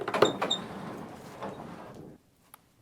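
A barn's sliding door rolls along its overhead track, a loud scraping rumble for about two seconds that stops abruptly, followed by a faint click.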